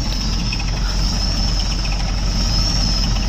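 A road roller's engine cranks and idles roughly while failing to start and pouring smoke, a steady low rumble with a faint whine, heard alone at close range.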